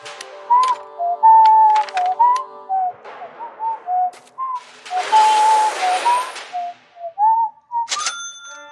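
A person whistles a wavering, bird-like melody of short rising and falling notes, fairly close and clear, during a Roblox Iron Assault game session with faint background game noise.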